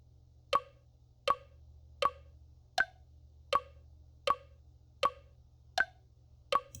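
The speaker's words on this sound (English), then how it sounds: "metronomes on both of these so you can hear the clicking" Software metronome from Ardour and MuseScore running together, producing nine crisp, evenly spaced clicks about three-quarters of a second apart over a quiet low hum, with no talk.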